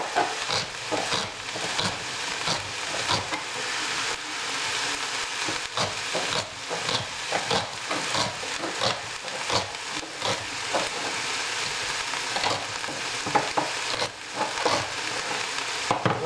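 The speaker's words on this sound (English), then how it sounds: "over here we just got some butter frying" Butter sizzles and crackles in a pan on the stove, a continuous close hiss broken by sharp pops and stirring scrapes.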